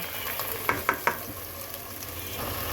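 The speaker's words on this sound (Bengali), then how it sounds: "সব কিছু একসাথে সুন্দর করে ভাজা ভাজা করবো" Rice and green chillies frying in a pan for a vegetable pulao make a steady sizzle, broken early by three quick scraping clicks of a stirring spoon, then continuing evenly and up close.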